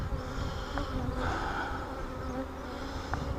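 Honey bees buzz continuously at a hive during honey frame pulling, a close, dense hum with a few brief louder passes of individual bees.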